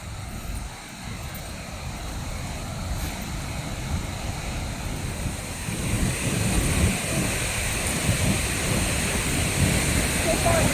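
Steady roaring rush of Vernal Fall in Yosemite, heard from the Mist Trail, broadband and continuous, growing slightly louder midway, with faint wind buffeting the microphone.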